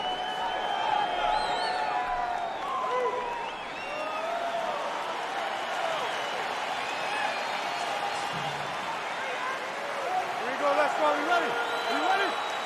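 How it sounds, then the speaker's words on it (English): A roaring arena crowd cheers and whoops throughout a round of an EA Sports UFC 3 fight, a dense, steady wall of noise with swells near the start and end, while commentators talk over it. "Crowd fired up, so are we."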